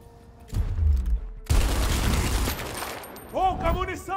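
Bursts of rapid gunfire crackle loudly in Gears Tactics, then a dense volley of shots, followed by warbling electronic tones from the game.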